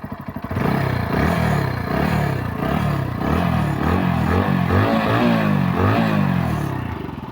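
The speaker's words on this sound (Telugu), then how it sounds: "చూడండి ఇంజిన్ సౌండ్ ఎంత నీట్గా వస్తుందో." A rebuilt Bajaj Pulsar NS motorcycle engine idles and revs steadily up close, with a rhythmic pulsing throb and some mechanical clatter from vibrating parts, loud and continuous with no talk.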